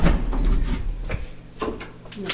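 An exterior door on a house is pushed shut during a walkthrough inspection, giving a few close knocks and thumps as it closes, with a voice speaking briefly nearby.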